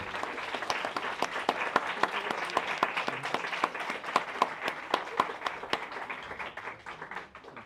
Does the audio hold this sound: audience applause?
yes